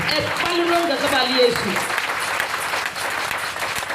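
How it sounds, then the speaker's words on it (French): A church congregation at a French-language evening preaching service claps loudly in a dense burst of applause, with voices and cheering mixed in before the clapping thins out. "Acclamez pour Jésus."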